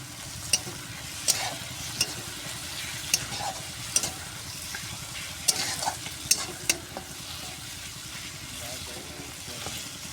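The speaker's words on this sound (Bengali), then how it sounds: "তো একটু মশলাটা কষিয়ে নিই" Ginger and garlic paste frying for a chicken dish at an outdoor riverside picnic, sizzling steadily while a spoon scrapes and clacks against the pan in irregular bursts; a voice talks faintly in the background.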